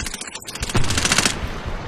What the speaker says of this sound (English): Putting bullets into him. Keep him suppressed.